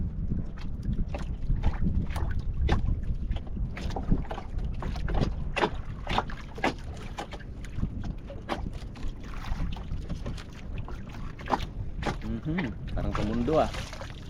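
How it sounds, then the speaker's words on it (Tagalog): A fishing boat moves past on the water amid gusty wind buffeting the microphone, with scattered knocks and splashes; a person talks intermittently. "Yun, dumaan na naman isang bangka mga idol."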